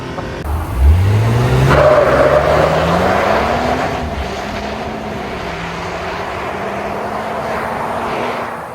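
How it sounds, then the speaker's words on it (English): A 2025 Ram 1500 with the Hurricane engine and a performance module floored at full throttle, a loud close engine roar climbing steeply in pitch through the revs, shifting, then holding a strong sustained drone as the truck accelerates. "this is the first time I'm flooring it"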